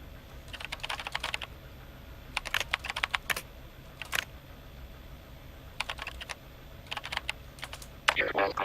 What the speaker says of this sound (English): I'll have a mechanical keyboard.